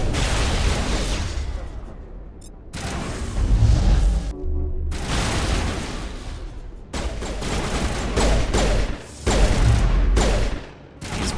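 Rocket launcher blasts and explosions in Mass Effect, loud repeated booms and crackling gunfire in close succession with a few short gaps, dominating the mix with little talk.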